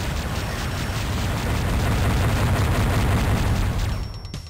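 A mega missile explodes in the video game Descent: a loud, sustained roaring blast that rumbles through several seconds before tailing off near the end, with no talking over it.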